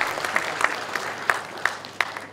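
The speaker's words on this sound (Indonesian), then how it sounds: "Aplaus untuk kita semua." Audience applause at the opening of a disaster-preparedness training event, a steady patter of clapping hands with sharper individual claps standing out, moderately loud and without talk.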